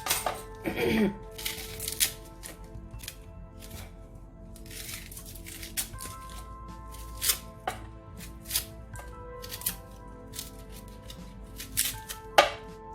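Potato, onion, tomato and green chili being peeled and chopped on a board, with crisp irregular knife cuts and crackling peel tearing, close and fairly quiet, with some faint talk underneath.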